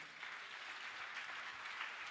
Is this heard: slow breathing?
no